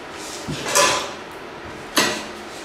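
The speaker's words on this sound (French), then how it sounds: "Voilà, on va mettre le couvercle." A metal lid is set on a pot of pot-au-feu: a soft clank of contact followed by a brighter rattle as it settles, then a second sharp clatter a moment later, with a quiet kitchen in between.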